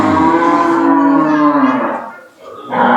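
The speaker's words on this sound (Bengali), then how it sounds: "আসলে গরু যে চঞ্চল দেখতে পাচ্ছি স্যার, অন্যান্য খামারে কিন্তু আমি এত চঞ্চল দেখি না।" Cattle on a large cow farm in Sirajganj give a loud, close, drawn-out moo lasting over two seconds, then a second call begins after a short dip.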